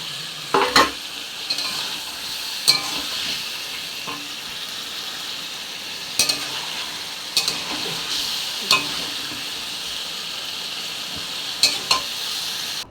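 Half-fried stingray sizzles in a pan with ginger, garlic, onion and bay leaf masala, a steady close frying hiss. A spoon scrapes and stirs now and then with sharp clicks against the pan, and no one speaks.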